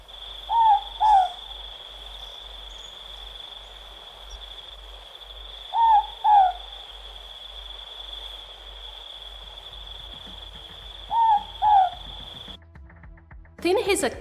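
An owl hoots in three paired bursts spaced several seconds apart, each a double hoot, over a steady high insect-like tone and a low rhythmic pulse in a quiet night-time setting.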